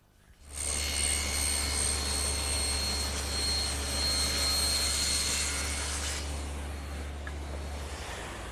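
Table saw cutting along a rabbet on a wooden front piece, a loud whining motor with a high-pitched blade scream as the wood is fed through, easing to a steady spin-down after the cut.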